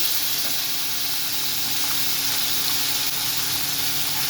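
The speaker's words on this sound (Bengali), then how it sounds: "তেলটা ভালো করে গরমও হয়ে গেছে তা আমি এবার মাছগুলো দিয়ে দেবো" Fresh pond puti fish fry in hot oil, a loud, dense, continuous sizzle and hiss heard close up without pause or talk.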